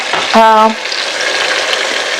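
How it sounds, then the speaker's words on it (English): Spices and chicken frying together in a pot for chicken vegetable pulao, a steady close sizzle with a brief clatter near the start. "Gonna fry for about 1 minute or so"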